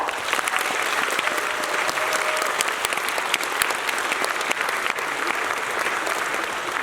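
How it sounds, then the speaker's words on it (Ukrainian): An audience applauds steadily after a Christmas nativity play on stage, a loud, continuous wash of many hands clapping throughout with no voices standing out. "А дива, які відбулись сьогодні на цій сцені, заслуговують ваших усмішок та оплесків, чи не так?"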